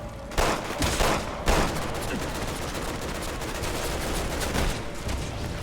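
Gunfire from a weapon in the Resident Evil co-op game: a few loud, close blasts at the start, then a dense, continuous rattle of shooting and noisy combat that continues to the end.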